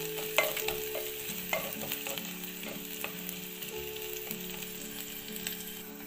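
Ingredients frying in oil for ganji, a steady close sizzle with a spoon scraping and stirring the pan in occasional distinct knocks and scrapes, no voices.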